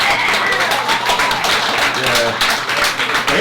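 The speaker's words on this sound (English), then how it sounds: "please give them a round of applause" A bar audience claps and cheers for veterans, applause swelling loud and close in a brief burst, with voices mixed in throughout.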